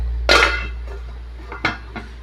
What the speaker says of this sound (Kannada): ಅಲ್ಲಿವರೆಗೂ ನಾವು ಲಿಡ್ ಕ್ಲೋಸ್ ಮಾಡೋಣ